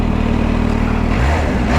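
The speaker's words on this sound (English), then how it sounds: "Apparently the supercharger rasp that you can hear on runoff, or overrun I should say" A 2023 Kawasaki H2 SX supercharged motorcycle on overrun, its steady engine drone turning into a raspy, crackling note near the end, loud and close with no talking.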